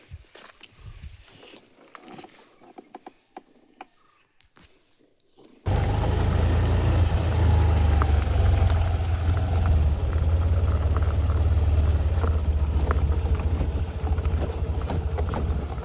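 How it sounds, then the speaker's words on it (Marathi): A car heading to a cashew orchard in the countryside; after a few seconds of faint clattering, a loud, steady engine and road rumble takes over and continues close up to the end, with no talk. "तर आता आपण जाऊया आपली गाडी घेऊन, कारण बागेमध्ये आमची गाडी जाते ना."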